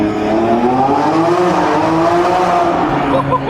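A Lamborghini engine roars loudly in a tunnel with the windows down, revving hard through downshifts in a continuous, echoing howl that rises and falls in pitch.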